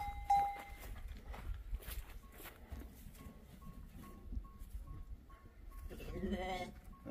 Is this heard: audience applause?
no